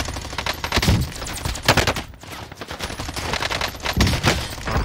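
Gunfire in Call of Duty Cold War Warzone, likely from an XM4 rifle: loud, close bursts of shots in quick succession, a brief lull, then another volley.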